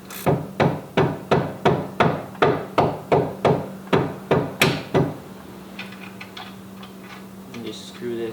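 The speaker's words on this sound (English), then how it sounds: "I'm just gonna use this ratcheting wrench and just tighten this bolt on there" A ratcheting wrench tightens a bolt on a Nissan 370Z SPL upper control arm, giving about a dozen crisp, evenly spaced clicks up close before stopping, followed by quiet handling noises.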